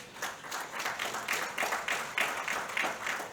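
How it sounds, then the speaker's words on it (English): Applause from a seated audience at a live literary author interaction and legal discourse event, a steady patter of many hands clapping close by, evenly sustained for a few seconds with no voices over it. "He deserves a great applause and appreciation"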